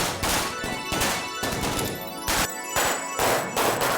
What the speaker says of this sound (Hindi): पूरी लड़ी है पटाखे की